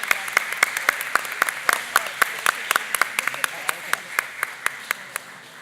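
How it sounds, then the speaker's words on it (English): Scattered, crisp clapping from a small group, individual claps distinct and fairly steady, tapering off toward the end. "Turn around and get a round of applause."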